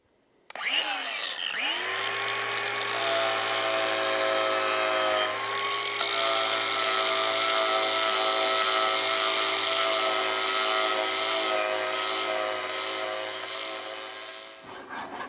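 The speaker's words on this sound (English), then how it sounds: "I'm actually going to power carve the bulk of this away" A power carving tool spins up and grinds into wood with a loud, steady whine for over ten seconds, then winds down and stops.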